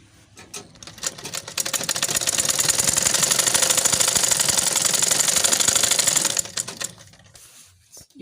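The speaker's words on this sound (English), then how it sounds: "you take the center and sew." Sewing machine running continuously for several seconds while stitching the pieces of an eight-piece skirt, with a rapid, even mechanical chatter that rises, holds steady and then winds down, heard close with no voices.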